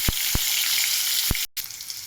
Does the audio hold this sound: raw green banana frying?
yes